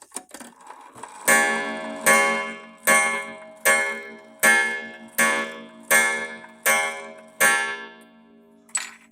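A repaired E.N. Welch gravity clock ticks in loud, evenly spaced strikes, roughly one per second, each ringing with a metallic gong-like decay, close and clear with no voices.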